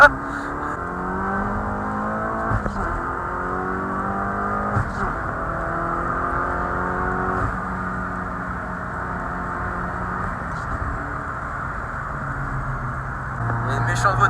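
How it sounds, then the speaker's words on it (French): A car engine drones steadily nearby on the Nürburgring, its pitch rising and falling with gear changes, while people talk quietly over the road noise as another car approaches fast from behind. "Il y a une méchante voiture qui arrivait à fond de balle derrière nous"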